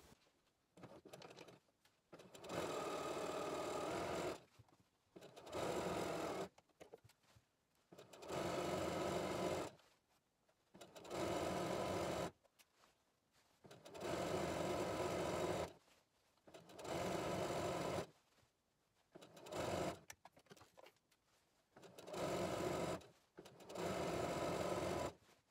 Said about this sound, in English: we're gonna stitch all the way down this long side, leaving the ends open